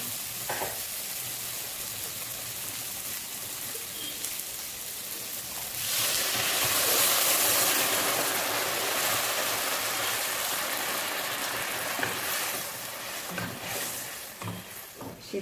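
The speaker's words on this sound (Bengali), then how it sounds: "এবার আমি জল দিয়ে দেবো।" Water poured into a hot pan of spiced tangra fish curry, a quiet sizzle that swells into a louder rushing hiss midway, then eases back to a gentler bubbling simmer.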